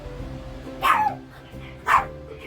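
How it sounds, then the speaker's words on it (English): Two sharp puppy barks about a second apart, heard from a little distance over a low background hum. "puppies are barking"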